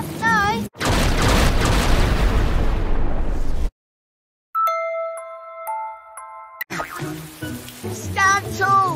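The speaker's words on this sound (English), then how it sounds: "It's raining a lot now." Heavy rain crashes in with booming thunder as a loud, dense roar lasting about three seconds, then cuts to silence. Chiming tones follow, and a voice talks near the end.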